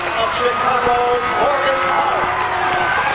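A crowd on its feet cheers a girls' relay race at the 1994 IHSA girls track and field state finals, a steady roar of shouting and babble filling the stadium.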